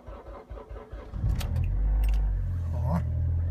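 Keys rattle, then a Honda Civic's engine cranks in about -18°C cold and catches, settling into a steady low idle rumble that continues to the end.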